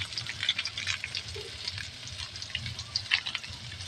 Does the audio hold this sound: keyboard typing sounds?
no